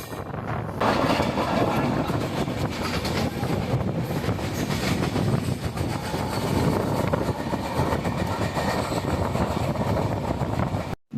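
Himgiri Express 12332, running from Jammu Tawi to Howrah, rolls along steadily with continuous loud rail rumble and rhythmic clickety-clack of wheels over joints, heard close from on board, with no talk.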